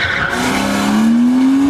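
A specially prepared car skids hard through a speed-maneuvering competition course at an Artmotion Cup stage in Mogilev, tires squealing in one loud, close, rising tone that lasts nearly two seconds.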